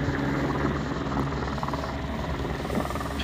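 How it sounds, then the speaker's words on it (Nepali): A helicopter lands at Everest View near Namche in the Solu region, its rotor thumping in a dense, continuous, loud roar that fills the whole stretch. "एभरेस्ट भ्यूमा ल्यान्ड गर्दैछ हेलिकप्टर"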